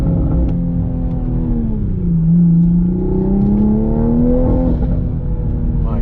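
2020 Toyota GR Supra engine revving with its intake noise prominent: a loud, close, droning engine tone that dips and then climbs steadily in pitch, heard from inside the car without talk.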